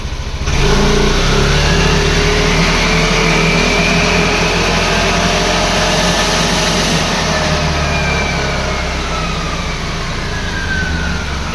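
A remapped car engine on a dyno runs loud and close, holding a steady idle before rising into sustained revving that stays high and constant, with no talk.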